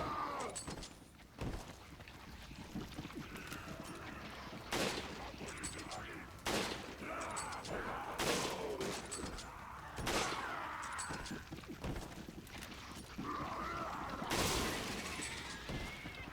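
Gunshots from a firearm in the video game Resident Evil 5, during a Mercenaries match in the village, sound as a series of loud, sharp, spaced reports, about eight in all, over low game ambience.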